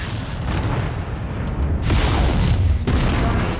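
Mech weapons from MechWarrior 5 fire at an enemy mech in heavy rumbling booms, a dense roar of blasts with a sharp burst midway and another near the end, loud and close.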